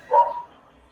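A single short dog bark lands close and clear, then fades into quiet.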